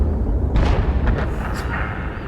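A heavy tank gun fires in World of Tanks from a Bat.-Châtillon 155 55 self-propelled artillery piece, a loud booming blast with rumbling tail that sits over and under ongoing voice commentary.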